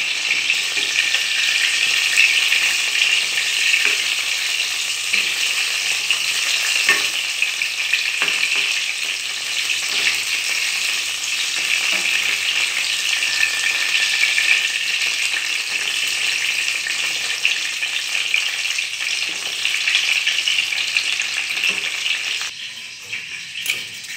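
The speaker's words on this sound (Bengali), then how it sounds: "আমি এবার বেগুনটাকে উল্টে দিচ্ছি।" Eggplant slices for doi begun sizzle steadily in a hot pan of oil, a continuous close-up frying hiss that holds evenly throughout with no talking.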